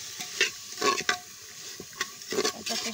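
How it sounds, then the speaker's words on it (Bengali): Chickpea dal frying with turmeric, salt and oil in a pressure cooker, with several scraping stirs of a spoon against the pot over a quiet sizzle, close and without talk. "প্রথমে আমি ডালটাকে ভালো করে হলুদ লবণ তেল দিয়ে কষিয়ে নিচ্ছি"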